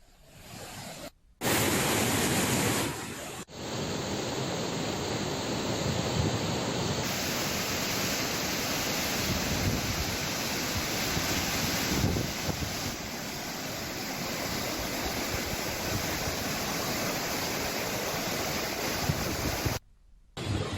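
A continuous heavy rush of water pouring through opened dam gates during high water after heavy rain, loud and steady, with no voices over the roar.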